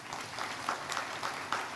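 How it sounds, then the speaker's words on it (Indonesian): Congregation applause at a Sunday online church service, a steady wash of clapping with periodic swells, moderately loud and continuous throughout. "tepuk tangan buat Tuhan."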